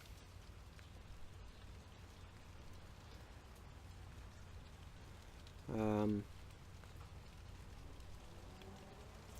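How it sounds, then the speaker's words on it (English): Light rain falls steadily as a soft, even hiss beneath a voice that speaks briefly partway through, faint and continuous from start to finish. "Starting to rain."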